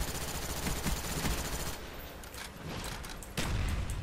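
Rapid automatic gunfire from a weapon in Call of Duty: Black Ops rattles in dense bursts, broken by a brief pause and then resuming, with sharp cracks over a busy game soundscape.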